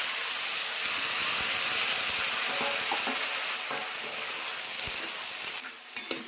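Chickpeas and taro hit hot oil in a wok after a cumin tempering and give a loud, steady hiss of frying. The sizzle eases slightly, then a few clinks of stirring follow near the end, with no voices.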